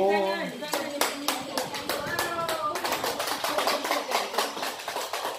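A class of children at a Teachers' Day event claps hands in a quick, uneven patter of sharp claps that builds after a voice speaks at the start, close and fairly loud.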